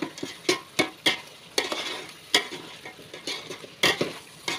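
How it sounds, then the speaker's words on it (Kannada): Ground masala paste sizzles in a pot for country chicken gravy while a spoon stirs it, producing repeated scraping strokes in an uneven rhythm over a steady frying hiss. "ರುಬ್ಬಿರುವಂತಹ ಮಸಾಲ ಚಟ್ನಿನ ಹಾಕಿ ಫ್ರೈ ಮಾಡ್ಕೋಬೇಕು"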